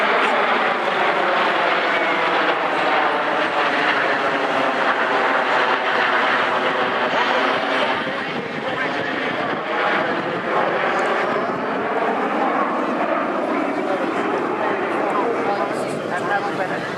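A Eurofighter Typhoon jet at the 2013 Swansea Airshow roars past with a loud, sustained sweeping rush, while an announcer's commentary carries on over the engine noise.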